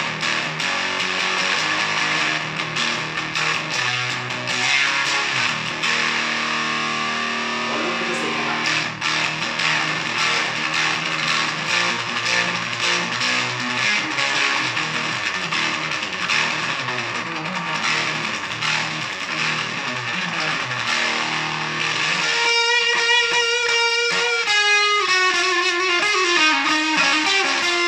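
A SqoeSA100 electro-acoustic guitar played through a distorted, crunchy tone, sustained chords and riffs ringing continuously and loudly, ending with a run of bright, quick single-note phrases.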